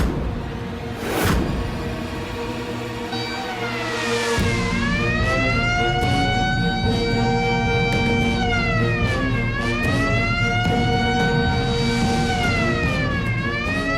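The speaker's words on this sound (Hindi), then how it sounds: "किसी ने कैदियों में फरार होने वाला सायरन बजा दिया है" A prison escape siren wails loudly and continuously, its pitch sweeping up and down in long repeating cycles after a brief whoosh at the start.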